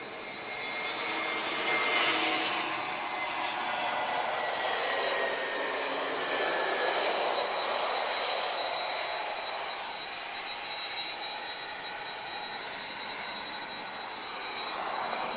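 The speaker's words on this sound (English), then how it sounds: "Do love that sound, 2 CF6 engines." An airliner with two CF6 jet engines arriving at Lisbon Airport makes a steady, broad roar with a faint high whine, heard from a distance and holding at a constant level throughout.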